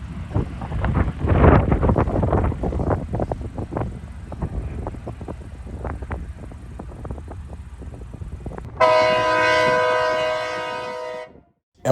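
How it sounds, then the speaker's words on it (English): A Loram rail grinder train rolls westbound on the Norfolk Southern Dayton District, a long rumbling, clattering pass close by, then a loud steady grinding whine with strong tones rises near the end before cutting off. "a Loram rail grinder train heads westbound"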